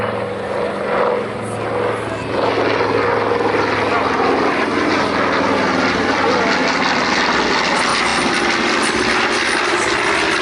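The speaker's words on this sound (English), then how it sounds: "the sound of those big radial engines." Big radial-engine aircraft at an airshow make a loud, sustained propeller drone that swells as they pass overhead, with crowd and wind noise mixed in.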